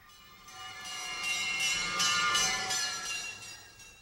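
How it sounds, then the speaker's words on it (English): A fire engine's bell clangs in rapid, regular strikes over a ringing tone, growing louder and then easing off. "That's a fire engine,"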